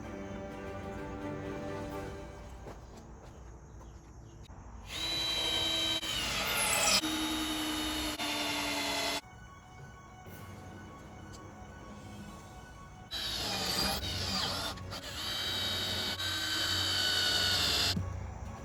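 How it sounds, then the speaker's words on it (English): A power drill drives screws into a wooden kayak rack in two long whirring runs several seconds each, loud and close, separated by quieter handling noise. "go ahead and put a couple screws in it just like I did down here"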